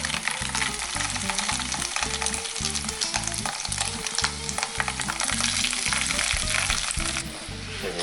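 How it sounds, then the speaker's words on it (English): Salmon fillets fry skin side down in oil and butter with a loud, continuous sizzle and spatter, while a rhythmic thudding repeats under it throughout. "it's in with your salmon fillets, skin side down first, and you're going to cook them for 3 or 4 minutes on either side"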